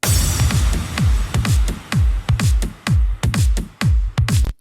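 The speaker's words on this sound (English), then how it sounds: "So let's just listen to the drums here" A soloed electronic house drum track built around punchy kick drums: a steady four-on-the-floor pattern of deep booming thumps with crisp hits over them, loud and upfront with no other instruments.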